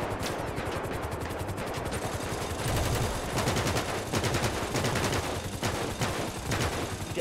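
Rapid bursts of automatic gunfire in GTA 5 rattle close and loud, with fast repeated shots in several volleys that overlap one another.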